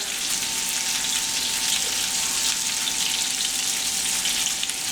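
Meatballs fry in a pan with a loud, steady close-up sizzle and crackle, unbroken for several seconds and joined by a faint constant hum, with no talking.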